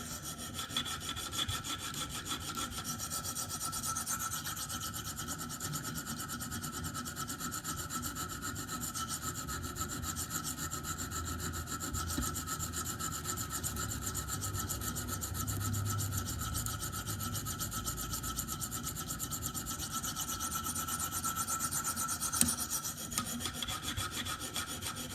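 A Spyderco PM2 knife with S35VN steel being sharpened on a KME guided sharpener, steady continuous rasping strokes of stone on blade, close and even, with no talking.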